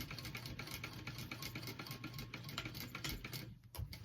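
A sewing machine runs a fast, even stream of stitches down the middle line of a diamond-pattern clutch wallet, quiet and continuous with a brief pause near the end.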